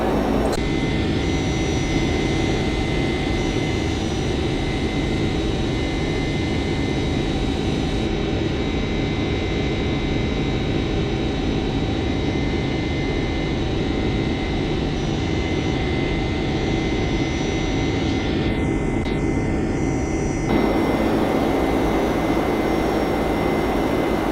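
Boeing 767F jet engines accelerating in the X-Plane 12 flight simulator during a climb past 10,000 feet, a steady loud broadband roar with a constant whine, running alone and unbroken throughout.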